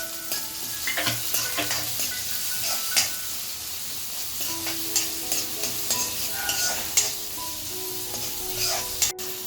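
Finely chopped onions frying in a pan for a mutton dish, with a low steady sizzle and frequent stirring scrapes and clanks, with no voices.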